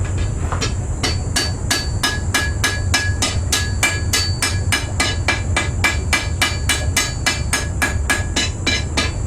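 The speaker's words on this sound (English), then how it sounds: "I'm using a smaller hammer now." A small hammer strikes a sword blade being shaped, in a fast, even rhythm, sharp ringing metal blows repeating steadily one after another, close and loud.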